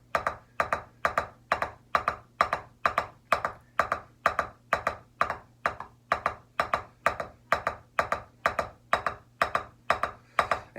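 A drummer plays a four-in-a-hand doubles exercise on a practice surface, crisp even strokes in a steady rhythm of paired hits repeating throughout, clear and close with no talking.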